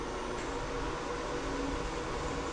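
A grain bin leg elevator runs with a steady, dense mechanical roar and hiss, constant and close, with no pauses.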